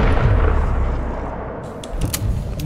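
A loud burst of gunfire in Dead Island 2 opens, then fades into a decaying rumble, followed by a few sharp clicks; no talking.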